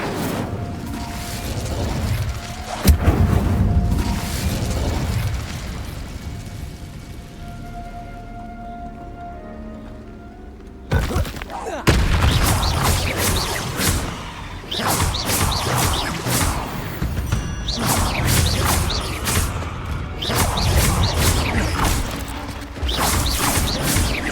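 Whooshing, crackling bursts of the Incendio fire spell in Hogwarts Legacy, mixed with crashes and impacts of combat, loud and dense, with a quieter lull midway before the flurry of effects resumes.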